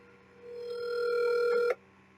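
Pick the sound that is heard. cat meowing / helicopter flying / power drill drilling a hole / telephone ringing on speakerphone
telephone ringing on speakerphone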